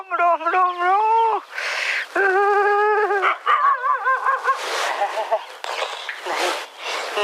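A dog yips, whimpers and barks in a rapid, excited series of high, wavering cries mixed with short yelps, close and fairly loud, with a scene from a Gujarati comedy around it.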